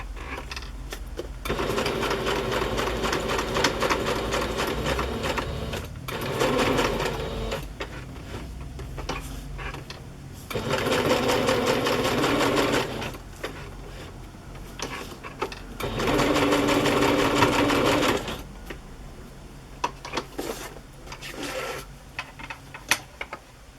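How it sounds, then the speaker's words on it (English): A sewing machine stitches around lace to tack it down, running in three long loud bursts of rapid mechanical whirring. Between the bursts come quieter pauses with small clicks and handling sounds, and no talking is heard. "Now I'm just going to sew around this lace to tack it down a little bit more."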